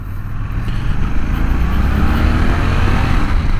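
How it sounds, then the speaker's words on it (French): A Suzuki 800 DE motorcycle engine accelerates while riding, a loud, close engine roar under heavy wind noise, with the pitch rising steadily as speed builds. "dès qu'on ouvre, oh là là, le moteur, le couple de ce moteur, il est vraiment très intéressant"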